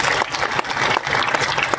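Loud, dense clapping from a village audience at a martyrs' remembrance ceremony, a short continuous burst of applause with no speech over it.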